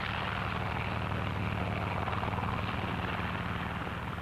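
Propeller aircraft engines roar steadily at a distance as control planes take off from an aircraft carrier during the 1946 Bikini atomic tests, a continuous loud drone that fills the whole stretch with no talk over it.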